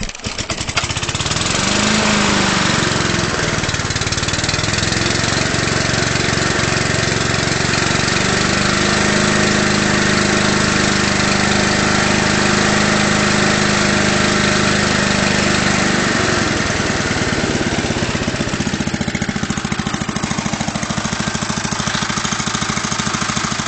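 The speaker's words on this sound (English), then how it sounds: "I'm going to do a cold start on the 32-year-old gv150 that I got for free." A 32-year-old Honda GV150 small engine starts from cold and settles into a loud, steady, close-up idle with a continuous mechanical drone and no talk.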